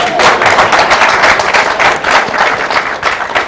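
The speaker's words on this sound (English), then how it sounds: "Yes, you can applaud." A crowd at a Carly Fiorina campaign event breaks into loud, dense applause, a steady wash of many hands clapping at once that carries on without letup through the moment.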